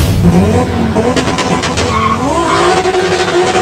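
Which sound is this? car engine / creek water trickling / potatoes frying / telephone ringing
car engine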